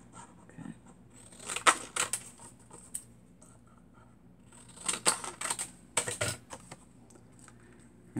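Scissors cut card for foiling at close range, giving a few sharp snips and crisp crunching cuts in short bursts separated by quiet pauses.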